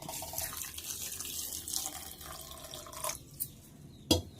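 Water pours and trickles into a container of leftover rice with a hollow, filling sound, followed by a few small drips and a clink near the end.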